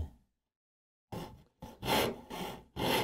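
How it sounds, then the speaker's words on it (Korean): A hand saw cuts wood for a hidden dovetail furniture joint: after a brief pause, four or five close, rasping strokes come in an uneven back-and-forth rhythm. "자, 마저 톱질을 다 완성을 해 볼게요."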